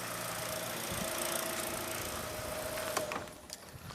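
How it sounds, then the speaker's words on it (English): A 2013 Kia Rio engine idles steadily in a faint, even hum with a light ticking texture, and a couple of small knocks come toward the end. "The vehicle sounds perfectly good."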